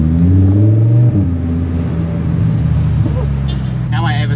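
A Lamborghini rented in Dubai hums with a steady low engine drone while driving, loud and continuous beneath a person speaking over it.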